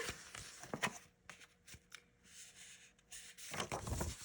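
Card stock with a floral pattern is handled and creased during a paper-crafting fold, giving a few brisk papery rustles and slides up close, with a quieter stretch in the middle before more handling.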